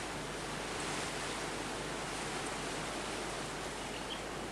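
A strong gale roars over an Australian valley as a loud, steady broadband rush of wind that keeps going without a break and carries no voices.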